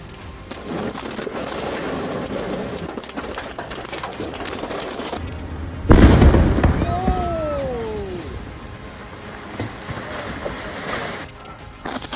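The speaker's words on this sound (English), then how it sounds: "A man named James Yu, 56, intentionally set his house on fire with gasoline in Virginia, causing a massive explosion that could be felt even from a distance" A house deliberately set alight with gasoline in Virginia explodes in one sudden, loud, deep blast partway through, followed by whistling, falling tones and a fading rumble over steady background noise.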